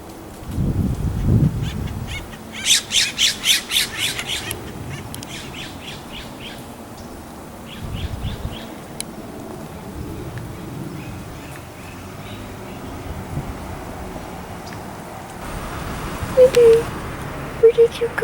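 Nanday parakeets and a shrike call outdoors during a wildfire, with bursts of harsh chattering chirps early on and scattered calls later over traffic noise while a person talks.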